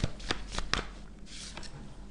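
Tarot cards being shuffled by hand at close range, a series of crisp riffling bursts and soft card slaps, steady and moderately loud with only faint background voice.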